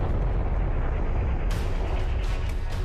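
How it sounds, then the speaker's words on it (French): A huge fireball crashes to earth near Carancas in southern Peru, dramatised as a sustained, loud, rolling explosive rumble that swells partway through and carries on without a break. "Une énorme boule de feu laisse une traînée dans le ciel,"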